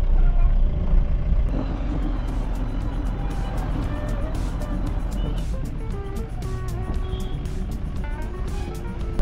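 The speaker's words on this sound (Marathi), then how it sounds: "कारण आपल्याला लागलंय पुढे ट्रॅफिक आहे बघा" Road traffic on a highway drive from Mangalore to Chennai heard from inside a moving car, continuous engine and road rumble with passing vehicles and truck noise, steady and close.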